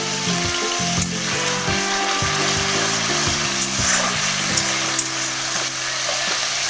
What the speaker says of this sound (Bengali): আমি এখানে তেলের উপর একটু চিনি অ্যাড করে দিলাম